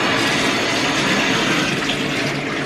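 Shower water sprays and runs steadily while a small dog is being washed, a dense continuous hiss of water close by with no pauses.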